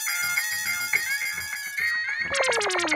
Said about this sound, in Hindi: अरे वो डिलीवरी बॉय का फोन है